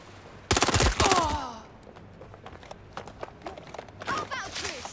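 Gunfire from the video game Watch Dogs: Legion, a dense burst of rapid shots up front, then scattered lighter shots and a second burst near the end, with brief speech mixed in.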